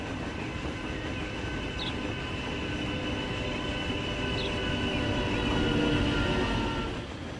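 A class 101 locomotive hauls a train past in the Transport Fever 2 game, a continuous loud rail rumble that swells toward the end, with no talk over it.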